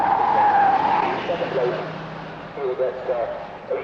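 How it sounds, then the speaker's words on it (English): Mazda twin-rotary rallysprint cars of 110 horsepower sweep past at around 120 mph on a circuit straight in 1980, with a high engine wail and tyre noise fading away under a commentator's steady talk. "This is a 120-mile-an-hour section for these 110 horsepower Mazda twin rotary engine cars."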